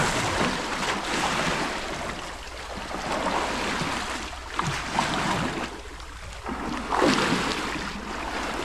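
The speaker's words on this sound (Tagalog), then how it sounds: "Maridinig nyo lang yung ano ng alon, tubig." Ocean waves and sloshing water around a small fishing boat at sea, a steady broadband wash with surges near 4.5 and 7 seconds, wind mixed in, no speech.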